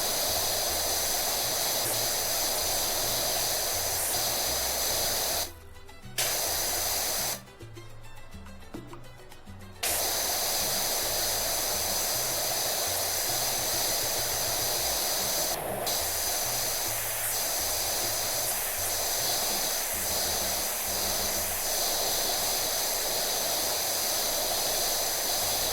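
Pressure washer spraying in the video game PowerWash Simulator 2: a steady, bright hissing jet runs almost continuously, broken by two short pauses near the start, with faint game chimes in the background.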